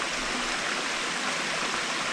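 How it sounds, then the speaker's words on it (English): Water pours steadily out of an underground mine opening, a dense, continuous rushing wash that stays close and even throughout with no voices. "There's still water pouring out of it."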